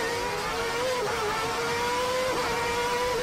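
A McLaren 675LT drives slowly along the narrow Monaco F1 street circuit, its engine a steady loud drone with a slight pitch dip partway through, close and continuous.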